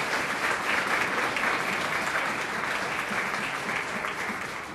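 Sustained applause from an audience for Jacques Stickelbaum at a speech event, steady dense clapping filling the whole stretch at even loudness, easing slightly at the end, with no voices over it.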